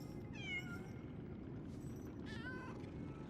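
A cat in the video game Lies of P meows twice, short rising-falling calls separated by a pause, heard over a steady low ambient game background with no speech.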